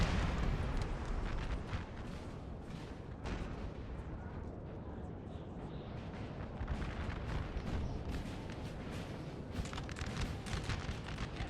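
Artillery shelling buildings during a Napoleonic Total War 3 battle at Waterloo: repeated booming blasts and scattered gunfire rumble almost continuously, moderately distant and dense, with no voices.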